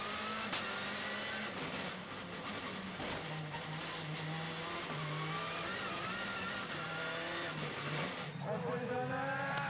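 Rallycross cars at the start of a race in Châteauroux, France, with engines revving and droning at varying pitch under continuous commentary.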